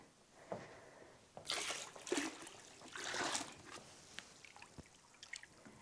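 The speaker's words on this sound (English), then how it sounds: "be sure to add more hot water to the hot water bin" Hot water is poured into a foot bath bin in a few short splashing bursts, fairly quiet and close, with gaps of near silence and small drips between them.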